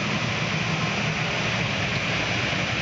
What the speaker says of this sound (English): The noise you hear are the blowers for the convective preheat.